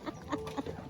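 A chicken clucks in short, repeated calls at a rural home in the Philippine provinces, fairly close and moderately loud, with a few separate bursts spread across a brief moment and no talking.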